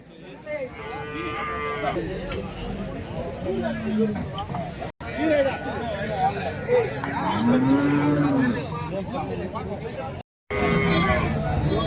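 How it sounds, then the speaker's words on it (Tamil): Cattle mooing at the Santhipuram cow market in Andhra Pradesh, several long low moos at close range amid crowd chatter and market bustle, with people talking throughout. "சாந்திபுரம் மாட்டு சந்தை."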